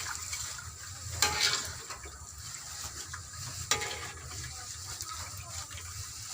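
Eggplant chips fry in hot cooking oil, giving a steady soft sizzle with a couple of brief clatters from stirring. The frying stays faint and continuous, with no talking over it.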